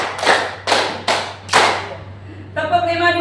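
Group of participants at a school-change discussion session clapping hands in a counted rhythm: four loud, evenly spaced claps close by, followed by a voice speaking.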